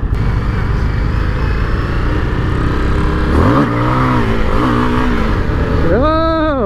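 A 2021 Indian FTR 1200 Rally motorcycle engine runs loud and steady, then revs up in rising sweeps as the bike lifts into a wheelie, with a final sharp climbing rev near the end.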